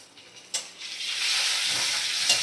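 Ground spices stirred in hot oil in a pan, a sharp scrape followed by a strong, steady close sizzle that swells and holds, with another stir near the end.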